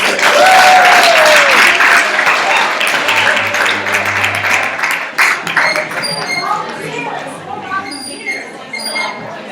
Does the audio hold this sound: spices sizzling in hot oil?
no